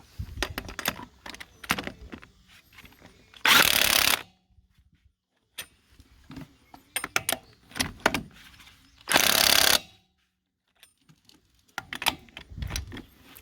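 Battery impact gun running lug nuts onto a wheel of a 2004 Chevrolet/GMC 2500 Duramax truck with a nearly dead battery, two loud sustained bursts of about a second each, separated by clanking tool and handling noises.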